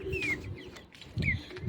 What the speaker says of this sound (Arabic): ده الطيور بتاعتنا زي ما وريتها لكم